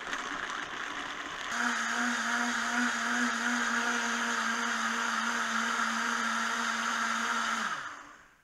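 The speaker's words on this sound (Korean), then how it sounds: "이제 믹서기에 갈아주도록 할게요." A blender grinding pumpkin seeds with water starts up and whirs at a steady high pitch for several seconds, then winds down and stops.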